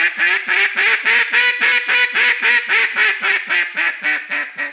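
Repeated duck-call quacks from a hand-blown duck call, about twenty sharp evenly spaced quacks in a steady rhythm, close and loud, with no talking over them.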